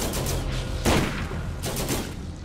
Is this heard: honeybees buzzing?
no